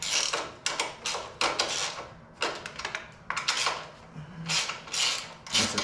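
A wrench works a 10 mm bolt loose on the factory skid plate of a Honda TRX450R quad, giving bursts of rapid metallic ratchet clicking separated by short pauses, close and fairly loud.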